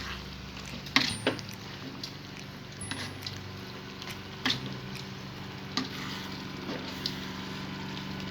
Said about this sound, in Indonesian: Terus kita masukkan cabai hijau. Aduk-aduk sebentar.